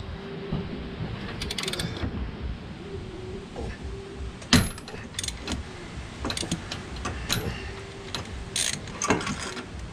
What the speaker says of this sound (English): stick a ratchet on it, just like that, and then stick that in over the nut, and then we're going to undo it